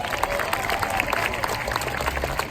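A crowd at a middle school promotion ceremony applauds students for the class of 2019, a continuous wash of clapping from many hands that stays fairly loud and steady, with faint crowd murmur.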